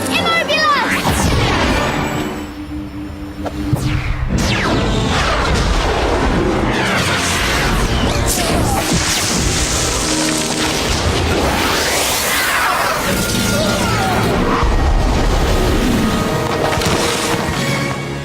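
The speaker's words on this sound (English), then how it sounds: "what you could call the explosive whoosh sound effect" A dense, loud barrage of explosive whooshes and booming blasts from the magic sound effects of Harry Potter and the Chamber of Secrets rolls on continuously, layered with crackling bursts and rumbling low end.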